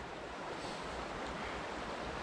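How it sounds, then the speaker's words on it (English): A snowy creek's rapid water rushes in a steady, dense wash of noise on a very cold day, constant and fairly loud with no voices. "And the rapid water of the creek itself."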